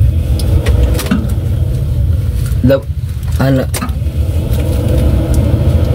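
Car driving on the way to an oil change, a steady low engine and road rumble running throughout with passing noises, while people talk faintly over it.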